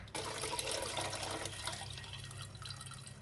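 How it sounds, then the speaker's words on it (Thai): Water poured into the base of a pot used to steam Thai rice crepes (khao kriap pak mo), a steady close splashing and trickling fill lasting throughout, fairly loud and alone without talk. "ใส่น้ำเยอะหน่อยนะคะ เพราะว่าการทำข้าวเกลียบปากหม้อเราจะใช้ไอ้น้ำในการทำให้แป้ง สุกนุ่มค่ะ"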